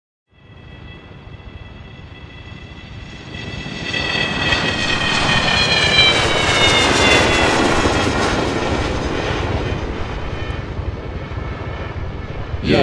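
An animated airplane takes off with a jet engine roar that swells from quiet to a loud, sustained whine with rising tones, then holds at full volume near the end.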